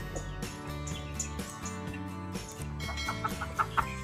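Chickens and two newly hatched chicks cluck and peep, short, close calls repeating over a steady tonal background sound, with a few louder chirps toward the end.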